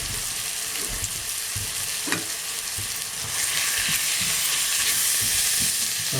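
About 500 grams of mince frying in a pan for homemade bolognaise sauce, a dense continuous sizzle with occasional stirring scrapes, close and fairly loud, growing slightly hissier toward the end with no talking.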